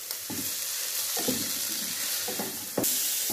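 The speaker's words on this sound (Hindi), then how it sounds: "अब मसालों को अच्छी तरह से इसमें मिक्स कर देंगे।" Spices are stirred into keema frying over a medium flame, a constant loud sizzle with rhythmic scraping strokes about every second, close up, with no talking.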